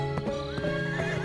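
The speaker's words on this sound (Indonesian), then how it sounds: "Gajah Mada membedal kudanya seperti sedang kesetanan." A horse neighing over hoof clip-clops, a drawn-out whinny with a few hoof strikes beneath, moderately loud and close, with no speech.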